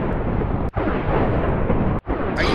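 A dense, roaring explosion in a video game fills the clip, loud and continuous with two brief cutouts.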